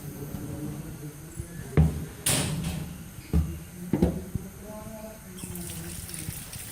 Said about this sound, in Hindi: अब इसके अंदर हमने ठंडा पानी डाल दिया